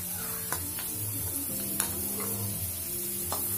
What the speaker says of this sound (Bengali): জাস্ট একটু ফ্রাই করে নেব।